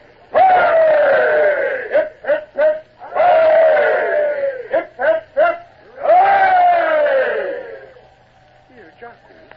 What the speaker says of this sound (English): And 3 cheers for the king.